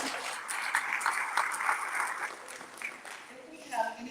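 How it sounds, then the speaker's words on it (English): An audience applauds trustees at a Christmas concert and forum, a steady, moderately loud round of clapping that tapers off, with a voice speaking faintly near the end. "Let's give them a round of applause."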